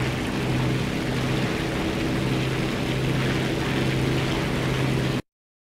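A propeller-driven warplane in War Thunder drones steadily with a low engine hum that holds even throughout, then cuts off abruptly near the end.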